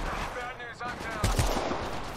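Rapid gunfire from a hard-kicking gun in Apex Legends Mobile during a team deathmatch, a dense burst of shots that grows louder and heavier in the second half, with a voice talking over it.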